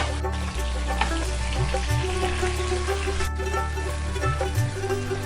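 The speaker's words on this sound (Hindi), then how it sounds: "तो ऑयल मेरा क्योंकि गर्म है तो इसलिए ये ज़रा थोड़ा उछल रहा है।" One kilogram of chicken frying in hot oil for a chicken and bitter gourd curry, a steady loud sizzle and crackle with spattering bursts throughout and no voices.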